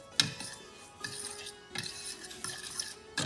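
Spoon or utensil working milk powder dough with thickened cream in a bowl for kala jamun, with soft scraping stirs punctuated by a few light clinks against the bowl, quiet and close.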